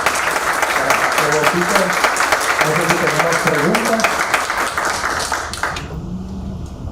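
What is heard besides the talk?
audience applause after conference talk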